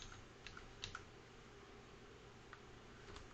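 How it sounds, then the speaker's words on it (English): Computer keyboard keys are pressed for shortcuts and arrow-key nudging during laser-cutter design work: a few soft, quiet, irregular clicks in a calm room. "using Control, Shift and the arrow keys"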